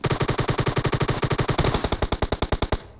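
Rapid machine-gun bursts from Battlegrounds Mobile India fire in a fast, even rhythm of sharp, loud shots, then slow into spaced single cracks before cutting off abruptly.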